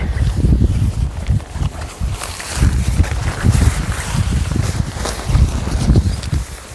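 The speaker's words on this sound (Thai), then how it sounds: "อันนี้ลมแรง" Strong wind gusts buffeting the microphone and rumbling in waves while a large camping tarp is pitched outdoors, loud and continuous with surging blasts.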